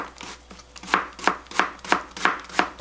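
Half a zucchini being julienned with a knife on a cutting board, a steady series of about eight crisp, close chops in an even rhythm.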